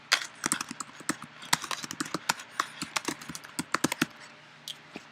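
Rapid keystrokes on a computer keyboard, an irregular burst of close, crisp clicks that quicken and then thin out near the end, with no voices.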